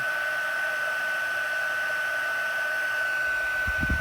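A heat gun warming up to emboss a card gives a steady, close whirring blow with a constant high whine, unbroken for several seconds, and a faint handling bump near the end.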